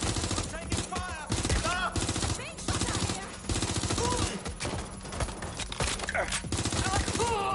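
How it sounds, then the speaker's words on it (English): Gunfire in the Watch Dogs Legion video game, dense bursts of automatic weapon shots crackling continuously over the whole stretch, loud and close, with game voices mixed underneath. "I'm taking fire!"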